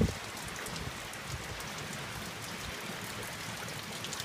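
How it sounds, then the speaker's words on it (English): Heavy rain pours during a flood, a dense, steady roaring patter of drops on surfaces with running water beneath, continuous and close, with a small knock at the very start. "I've never seen so much rain, like not in my life."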